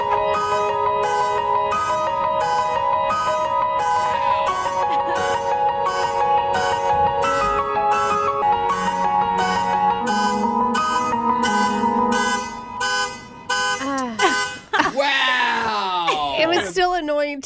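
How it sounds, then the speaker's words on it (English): A keyboard player's song built from a car alarm going off outside an apartment: repeating electronic alarm-like tones pulse in a steady rhythm over layered synth chords, ending in sweeping pitch bends, loud and close. "the sound of a professional keyboard player who had a car alarm going off outside his apartment"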